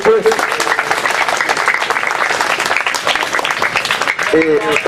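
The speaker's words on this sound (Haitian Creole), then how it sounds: "on doit applaudissement pour eux" A crowd applauds schoolchildren, a dense, continuous clatter of clapping heard under a voice speaking over it.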